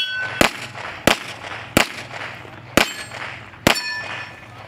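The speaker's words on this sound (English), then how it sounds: "You can hear him shooting the steel." Pistol shots striking steel targets on a competition shooting stage: five sharp, loud metallic cracks with a brief ringing tail, spaced unevenly at roughly one-second gaps.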